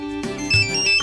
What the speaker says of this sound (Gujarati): લે, ગીતા આંટીનો ફોન.